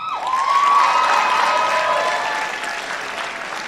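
Audience applause at a high school senior awards night, steady and fairly loud clapping that swells after a recipient's name is called, then slowly thins toward the end.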